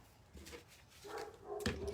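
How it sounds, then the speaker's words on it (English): Dogs bark in a home crafting space, giving a few short, moderately close barks and whimpers that build toward a louder bark near the end. "Barking dogs"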